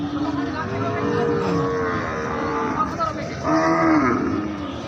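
Cows and calves moo amid a busy, noisy crowd at Bamundi cattle market, Meherpur, with long low calls rising out of the background chatter.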